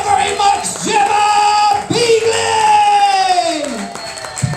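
An audience at a comedy show cheers and whoops loudly, with high shouted calls rising and falling over a dense crowd roar that holds steady throughout.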